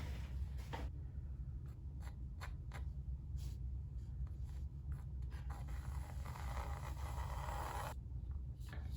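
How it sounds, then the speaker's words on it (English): Pencil scratching lightly across a canvas while an outline is sketched before oil painting. The strokes come as brief, soft rasps in irregular bursts over a steady low background hum, with no talk. "I think honestly first I'm gonna sketch it like a tiny bit out."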